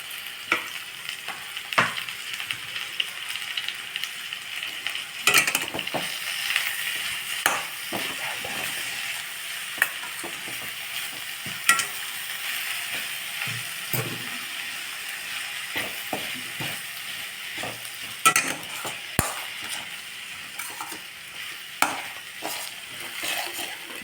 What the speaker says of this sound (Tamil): ரெண்டையும் சேர்த்து ஃப்ரை பண்ணும்போது வதக்கிட்டே இருக்கணும்